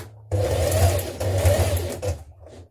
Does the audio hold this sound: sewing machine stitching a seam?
yes